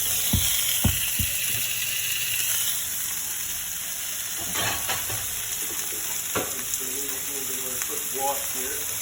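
New York strip steaks sizzle in a pan over turned-down heat, a steady loud frying hiss that runs throughout, with a few sharp clanks and scraping handling sounds on top.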